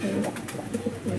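A Giribaj pigeon coos close by in repeated low, throaty burbling phrases, a few quick rhythmic pulses over a quiet background.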